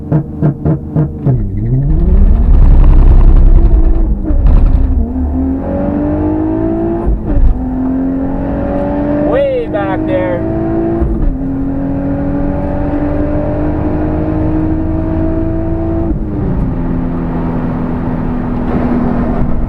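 An Infiniti G35 drag races a Honda S2000 at a drag strip, the engine revving hard and climbing through several gear changes with loud, close roaring and whining, no talk over it.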